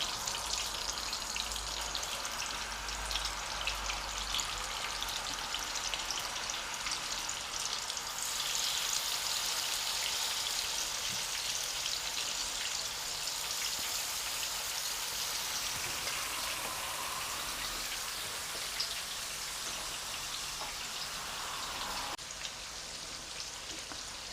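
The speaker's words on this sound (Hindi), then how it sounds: "थोड़े से घी में फ्राई हुए हैं, मैंने इन्हें साइड पे कर दिया। अब मैं बाकी के कबाब डालती हूँ।" Mutton keema kebabs fry in a little ghee over medium heat, making a loud, continuous, rain-like sizzle with fine spatters. It stays close and steady and drops slightly near the end, with no speech.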